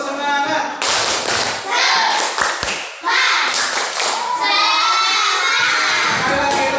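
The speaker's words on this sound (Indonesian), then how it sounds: "Tepuk semangat." A group of schoolchildren performs the 'tepuk semangat' spirit clap, sharp rhythmic handclaps in quick patterned bursts mixed with loud shouted chanting in a classroom, close and energetic.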